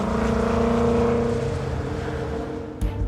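Mercedes-Benz 300 SLR racing engine revving high through a long inlet manifold and near-unmuffled exhaust, a loud sustained howl that slowly fades before a short sharp burst at the end.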